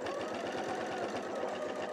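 A sewing machine runs steadily through an elastic bookmark and journal closure, its rapid rhythmic stitching chatter close, loud and continuous with no pause or talk.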